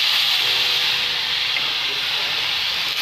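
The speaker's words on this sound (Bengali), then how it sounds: "আমি আবার একটু তেল দিয়ে আবার বাটারটা দিয়ে দিলাম," Flatbread frying in oil and butter in a pan, a loud, steady close sizzle and hiss that continues unbroken throughout.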